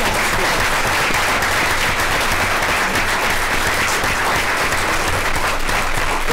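Sustained applause from an audience at a school board of education meeting, honoring a group of boys and girls; steady dense clapping fills the whole stretch with no speech over it.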